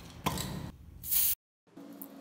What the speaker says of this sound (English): Make sure you have enough spray paint and wear something that you wouldn't mind getting dirty in.